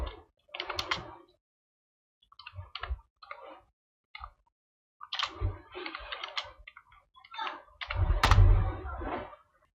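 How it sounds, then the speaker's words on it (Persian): Someone types on a computer keyboard, tapping out irregular clusters of quick, crisp keystrokes with brief silent gaps and a denser burst near the end, close and fairly quiet. "تایپ میکنم"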